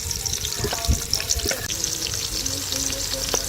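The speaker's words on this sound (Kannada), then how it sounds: "ಈರುಳ್ಳಿ ಚೆನ್ನಾಗಿ ಫ್ರೈ ಆಗಿದೆ" Onions frying in a pan with whole spices, a bright continuous sizzle up close, with a few soft knocks and scrapes from stirring in the first half and no talk.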